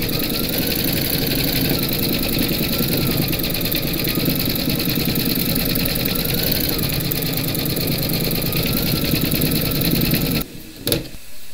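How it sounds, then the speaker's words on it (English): An embroidery machine stitches the bone details of a large skeleton applique in a steady, close, continuous hum and rapid needle rhythm, stopping near the end with no talk. "Load your matching bobbin and thread colour for the bone details into your machine, and then you're going to stitch round number four."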